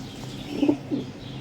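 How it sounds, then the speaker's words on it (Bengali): Flying pigeons of the original Punjabi Malbai breed in Nabadwip give two soft, low coos in quick succession, close by, over a faint steady background hum. "সব ওড়া পায়রা আছে দেখুন"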